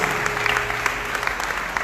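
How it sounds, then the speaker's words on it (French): A church congregation at a Sunday worship service applauds together, a dense steady patter of many hands with a faint sustained tone and low murmur beneath it. "nous avons demandé un applaudissement"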